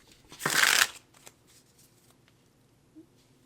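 Tarot cards being shuffled in one short, close riffle lasting about half a second, followed by a few faint taps and handling sounds in near quiet.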